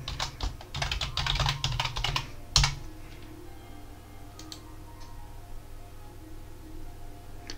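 A password is typed on a computer keyboard in a quick burst of close, light key clicks, followed by a single sharper tap and then near silence.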